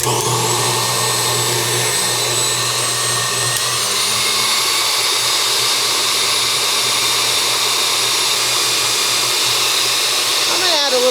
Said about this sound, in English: Got the whisk on here, putting in a couple egg whites. Let's start this going.